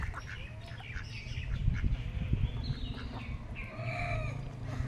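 Ducks at a village pond give a string of quacking calls over a steady low rumble of outdoor background noise, with no talk.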